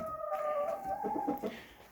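Chickens cluck and chatter close by as a farm flock goes up to roost for the evening in Portugal, with one louder call rising over the steady murmur of the birds.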